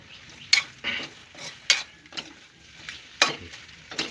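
Chicken and masala frying in a pan while being stirred, with a soft sizzle under three sharp metallic scrapes of a spoon against the pan and lighter stirring strokes in between, close and fairly quiet.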